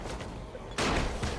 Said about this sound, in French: on va faire péter des pétards